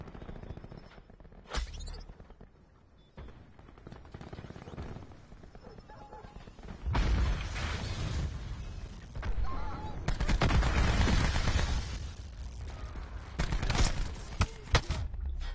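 Rapid gunfire from a weapon in Black Ops 4, bursts of dense shots that swell and thicken through the second half, with brief talk at points.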